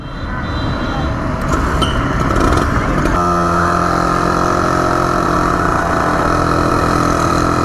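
A hot Lamborghini engine runs steadily with a loud, constant rumble, close by and uninterrupted.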